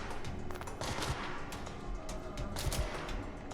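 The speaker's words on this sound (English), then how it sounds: "Wait, you're not firing those gunshots, are you?" Gunfire in the video game Control comes as rapid bursts of sharp shots over a dense, noisy backdrop of game combat, fairly quiet overall.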